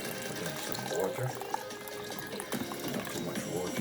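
Water is poured into a blender holding ginger and pineapple for a smoothie, making a continuous splashing, gurgling flow heard up close.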